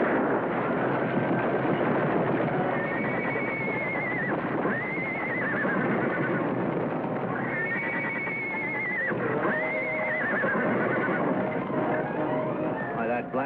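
A stallion neighs in a noisy old-radio-style scene, with long rising and falling whinnies heard twice over a dense rumble of running hooves and commotion.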